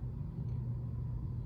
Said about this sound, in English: sorry for the thunder, guys.